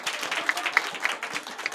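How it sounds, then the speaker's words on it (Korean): A church congregation claps together in celebration, a brief patter of many hands heard at moderate distance with no voices over it. "일단 축하의 박수를 한번 해주시죠."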